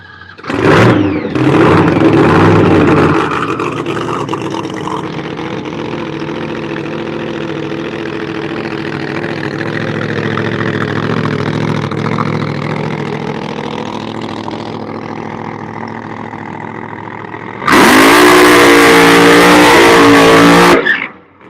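A loud drag race car engine idles and revs steadily for a long stretch during testing at the lanes, then bursts into a sharp, roaring rev near the end.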